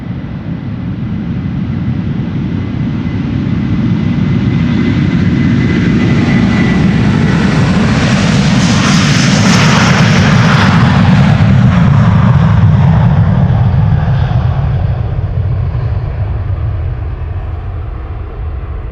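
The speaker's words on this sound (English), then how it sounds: "it's time for another Delta A330. This one is flight 161 to Minneapolis" A Delta Airbus A330 takes off at Amsterdam Schiphol Airport, its jet engines building to a loud, broad roar that swells as it passes close and then slowly fades into the distance.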